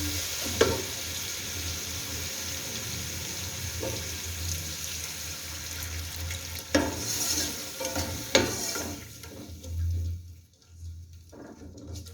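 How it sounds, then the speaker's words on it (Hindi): Stirring and scraping of a tomato mixture in a pan as water is added, with a light sizzle and running water, a few sharper clinks and knocks, no talking. "इनको हल्का सा हिला के इसमें थोड़ा सा पानी ऐड करेंगे।"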